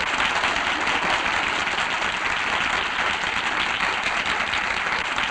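A studio audience on a 1955 Spanish radio show applauds in a steady, dense wash of clapping that holds at an even level throughout, with no voices over it.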